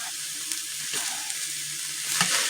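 Onion mixture cooking in a pan on a burner turned very low, with a close, steady bubbling sizzle and a few soft stirring knocks, no talking.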